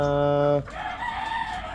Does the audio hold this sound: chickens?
yes